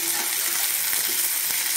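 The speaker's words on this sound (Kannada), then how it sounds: "ಸ್ವಲ್ಪ ಕರಿಬೇವು ಹಾಕ್ತೀನಿ, 2 ಸ್ಪೂನ್ ಜೀರಿಗೆ, 6-7 ಮೆಣಸು, ಇದೆಲ್ಲ ಹಾಕಿ ಫ್ರೈ ಮಾಡ್ಕೊಬೇಕು" Chillies, curry leaves, cumin and peppercorns fry in oil in a pan for a Karnataka pumpkin and fresh-bean bassaru, a steady close sizzle with faint stirring, no voices.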